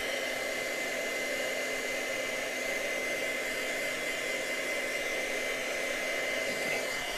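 A heat tool blows steadily to dry freshly stamped ink, a continuous broadband whoosh holding at even loudness throughout with no voices over it.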